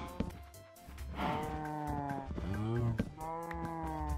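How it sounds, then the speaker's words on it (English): Cows moo in the Minecraft video game, several long, drawn-out bellows following one another and overlapping, fairly loud and close, with no talking over them. "Let's get these cows out of their pen."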